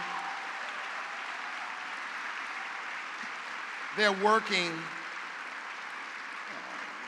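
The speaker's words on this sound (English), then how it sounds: "Let's give the staff here at the Anthem a warm round of applause." A steady, moderate patter of audience applause fills a large hall at a housing awards gala, continuing evenly while someone speaks briefly over it.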